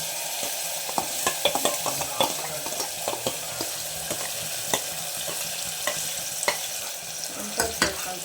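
Ginger-garlic paste, curry leaves and tomato paste stirred in a hot pan, a steady sizzle with frequent sharp scraping and tapping strokes of the spoon, close and fairly loud.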